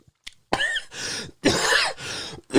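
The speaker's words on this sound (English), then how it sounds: "That was a fake cough, by the way." A person fakes a cough, giving a few harsh, throaty bursts in quick succession, loud and close, with no talk over them.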